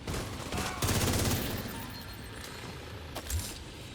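Gunfire aimed at a boss in a video game comes as a dense, loud burst of rapid shots, fades into clattering noise, then ends with a final sharp impact.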